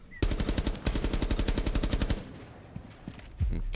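A light machine gun fires a long, rapid, evenly spaced burst in a video game recoil test, loud and close, then stops, followed by a few faint clicks and a last thump.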